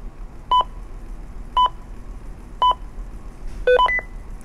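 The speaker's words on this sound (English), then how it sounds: "the radio beeps back that it's 2211" A Ritron JMX portable radio beeps out a channel code as three evenly spaced short tonal beeps, then a quick double-tone chirp, crisp and close against low background noise with no voices.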